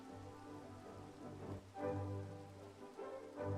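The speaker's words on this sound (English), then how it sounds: "stop the rain" Rain falling in the game Minecraft, a soft steady patter and hiss of drops playing quietly and continuously over a faint low hum.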